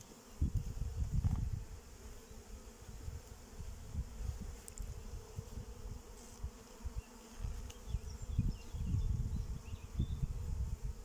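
Honeybees swarm around an opened beehive, buzzing close and continuously in shifting, swelling waves, with faint handling rustles and no talk.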